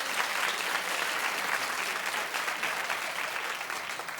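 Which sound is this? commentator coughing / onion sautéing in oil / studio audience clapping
studio audience clapping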